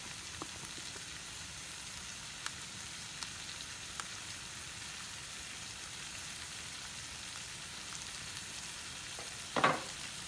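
Shrimp fry in a pan with a steady, close sizzle throughout and a brief clatter near the end.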